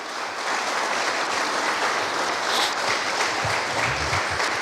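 A church congregation at a Sunday service claps steadily and strongly, a dense even wash of applause throughout.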